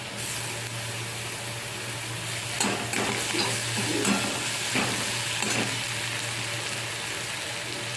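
Pumpkin and shrimp frying in a pan give a constant close sizzle, broken around the middle by a few scraping stirs of a spatula, without speech.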